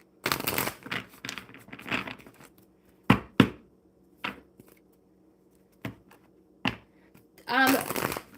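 A deck of playing cards is shuffled by hand, with short riffling bursts and scattered crisp snaps and taps near the start and end, close and fairly quiet.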